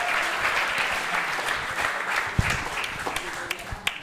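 Audience at a stand-up comedy roast final in Bandung applauding after a comic's set, a full steady wash of clapping with a few louder claps near the end and faint voices mixed in.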